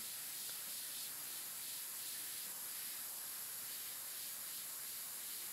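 A steady, continuous hiss of an airbrush spraying paint while painting an eye, close and even throughout, with no pauses and no voices.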